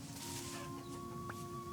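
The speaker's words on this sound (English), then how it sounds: "It's a chicken." A rooster in the video game Vintage Story gives a few faint, short clucks over a quiet steady background hum with a sustained tone.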